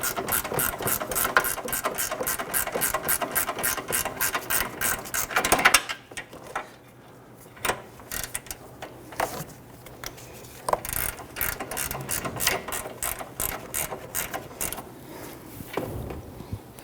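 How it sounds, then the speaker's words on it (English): A ratchet clicks in fast, regular runs as it drives in a front lower forward control arm bolt on a 2011-2023 Dodge Charger, with a short pause and then more bursts of ratcheting, close and fairly loud. "I'm just going to hold that nut there while I go ahead and drive that in."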